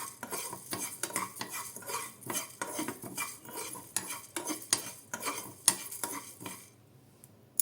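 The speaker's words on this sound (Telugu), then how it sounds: "ఒక హాఫ్ స్పూను జీలకర్ర, ఒక హాఫ్ స్పూను సోంపు. లో ఫ్లేమ్లో పెట్టుకుని ఫ్రై చేసుకోవాలి వీటిలన్నిటినీ కూడా." Cumin, fennel and coriander seeds dry-roasting in a pan over a low flame, stirred with a spoon in a steady run of close scraping and light clinks, with no voices.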